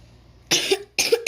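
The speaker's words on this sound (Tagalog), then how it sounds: "So guys, may ubo ako," Two sharp coughs, close and loud, follow a brief quiet stretch, each a harsh burst trailing into a throaty rasp.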